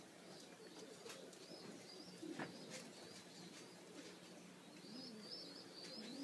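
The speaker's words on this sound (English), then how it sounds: "These first several pair of Rick Mee birds" Breeding pairs of pigeons in cages coo softly and repeatedly, with faint chirps and occasional rustling, all quiet and close.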